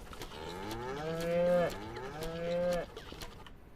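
Cattle in the Ranch Sim farming game moo twice in succession, long drawn-out lowing calls that swell and fade close by, with no talk over them.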